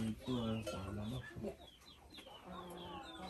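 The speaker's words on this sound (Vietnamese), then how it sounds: "Bên kia là chuồng gà" Chickens cluck and chatter in a rural backyard coop holding chickens and ducks, with several birds close by in overlapping bursts throughout.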